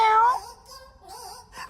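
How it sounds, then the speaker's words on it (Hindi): A cat meows in a few short, close vocal calls, the first loudest and falling in pitch, followed by softer, wavering cries. "मेरी बिल्ली।"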